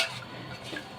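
A tomato and vegetable mixture being stirred in a cooking pot, one brief soft scrape and shuffle of the spoon through the food, close and quiet.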